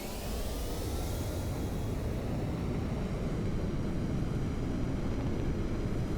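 Aircraft engine throttling up in a video game: a steady, dense roaring drone with slowly rising tones layered over it, continuous and unbroken throughout.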